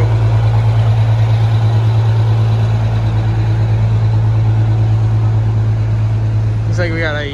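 A fire engine's loud, steady low idle rumbles continuously and close by at a small house fire in Newark, with a brief higher-pitched whine near the end.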